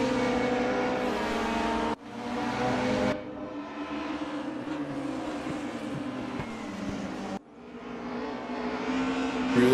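Race car engines from a BMW in Castrol livery and rival cars at RR Raceway-Bridge in a sim racing game, a steady loud mechanical drone with braking and gear changes, revs dipping and climbing again, no voices.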